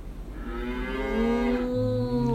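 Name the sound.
children imitating a cow's moo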